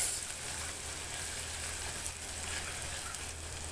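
Onion for sayadiyah rice fries quietly in a pan as it darkens, giving a soft, even, continuous hiss with no distinct bursts and no voices.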